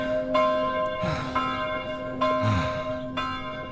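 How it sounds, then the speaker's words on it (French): Church bells ring in slow, steady strokes, each resonant tone lingering over the next, with a low hum underneath; no talking. "Les cloches sonnent pour lui."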